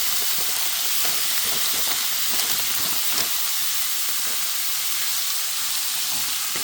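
Frozen cauliflower rice sizzles in hot olive oil with shallots, a steady, dense hiss of frying that runs evenly throughout with no voices.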